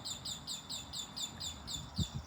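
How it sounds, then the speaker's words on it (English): Birds chirp noisily outdoors, a fast regular series of bright repeated calls at moderate distance, with a low murmur beneath and a brief louder low sound near the end. "I know there's some birds being very noisy"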